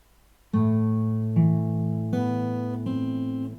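Fingerstyle acoustic guitar plays a piece from Final Fantasy X: four clear plucked notes ring out one after another, each sustaining into the next, close and alone with no talking.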